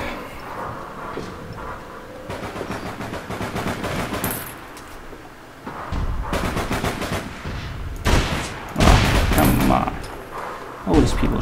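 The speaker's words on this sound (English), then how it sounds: "and then I'm just shooting them in the back" Video game gunfire as a player shoots down enemies, bursts of rapid automatic fire coming in loud clusters separated by short lulls, with some speech underneath.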